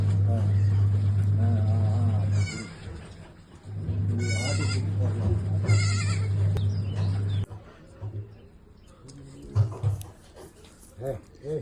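A mother goat and her two newborn kids bleat on a farm. Repeated wavering cries sound up close over a steady low hum, then fade into quieter scattered calls.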